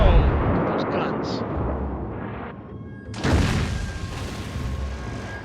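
Heavy ship guns fire in a video game naval battle set at Verdun, loud booming blasts with long rumbling decay, the second burst the strongest, under light talk.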